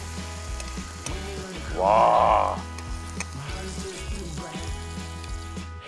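Eggplant stir-frying in a hot pan gives a loud, steady sizzle, swelling briefly midway, with a short exclamation from a voice and a tonal background underneath.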